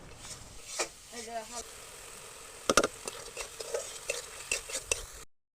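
Spices and chopped onion with cumin frying in a pan, a low sizzle under a string of brisk spatula scrapes and clinks, close, with a brief murmured voice early on.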